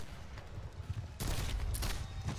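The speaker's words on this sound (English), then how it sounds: "Union gunners fire point blank." Union cannon and rifles firing point blank at Pickett's Charge as rebel troops surge over the wall, a muffled rumble swelling into a loud, sustained burst of gunfire.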